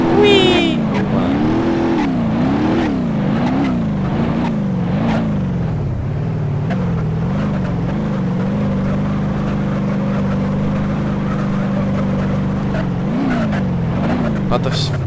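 Car engine in the BeamNG.drive driving game drones loud and close throughout, its pitch swinging up and down with repeated revving and shifting. A voice talks over it.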